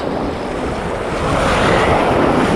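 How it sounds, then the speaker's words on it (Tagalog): Big waves surging near a bridge at a fishing spot, a broad roaring wash of surf mixed with wind rumble on the microphone, swelling louder partway through, with no voices. "Grabe mga bro, ang lalaki na alon oh."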